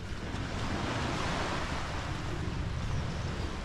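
Water washes steadily on a beach in rainy weather, a continuous broad surf rush that stays close and even throughout with no voices.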